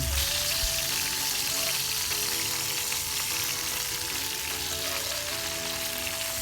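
Pork chop frying in oil over an outdoor cooking setup, a steady dense sizzle with crackling pops running throughout, loud and close, with faint tonal background sounds and no talking.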